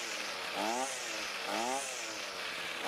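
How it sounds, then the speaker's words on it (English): A two-stroke small engine, just given a carburetor adjustment, revs up in two rising buzzy pulses and drops back between them, close and fairly loud. "rev it up a few times to make sure that it accelerates smoothly"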